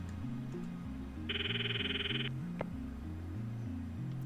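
A phone rings in the Steins;Gate anime: a single bright, warbling electronic ring lasting about a second, heard over soft looping background music.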